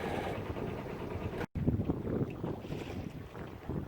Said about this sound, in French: Voilà, sous voile au grand largue.